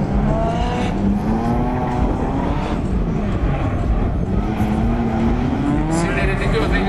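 Gymkhana race cars, including a Nissan S14, run a side-by-side course in Athens, engines droning and revving continuously with tire noise, while a commentator talks over the action.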